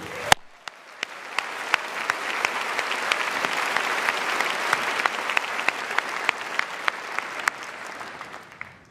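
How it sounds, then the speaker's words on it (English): A large convocation audience at the Kellogg School of Management applauds faculty and staff: dense, sustained clapping that swells and holds for about nine seconds, with a few sharper claps standing out near the start. "Let's applaud them."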